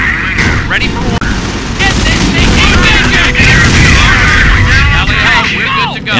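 Gunfire and artillery in the Company of Heroes video game rumble as a dense, continuous battle din with repeated shots and booms, and voices call out over the fighting.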